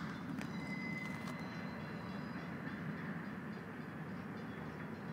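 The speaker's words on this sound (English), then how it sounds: "And that's one really long train" A long freight train rolls past on railroad tracks near a city park, a steady continuous rumble and rattle of wagons held at close range throughout, with a faint brief squeal early on.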